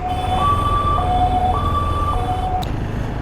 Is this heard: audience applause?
no